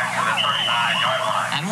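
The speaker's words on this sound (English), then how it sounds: "They don't have a horn, they have a siren here." A football game siren at a 1988 youth bowl game blares close and loud, its pitch wavering up and down without a break, with faint voices beneath.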